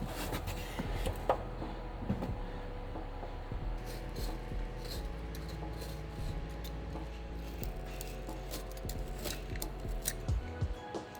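Scissors cutting and trimming sound deadening material during a Jeep install: a series of close, irregular snips and crinkly rustles, with no talk.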